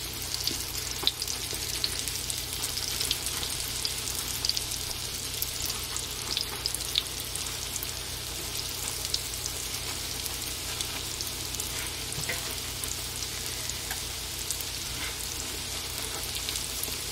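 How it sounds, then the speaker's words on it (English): Doughnuts fry steadily in hot oil, a continuous dense sizzle and crackle with faint clinks as chopsticks flip them, close and even throughout, no voices. "But I choose to use chopsticks, because I can flip them a lot easier."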